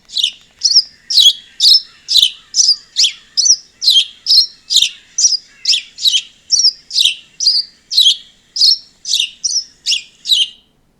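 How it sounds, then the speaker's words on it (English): A house sparrow repeats short, bright chirps in a steady series, loud and close, with nothing else around it. "This bird is the house sparrow."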